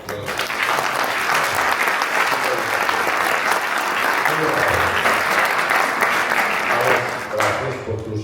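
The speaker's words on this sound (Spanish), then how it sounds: "otro aplauso." A lecture audience applauds steadily and loudly after a talk on reconciling science and religion, a dense, sustained clatter of clapping lasting several seconds before tapering slightly at the end.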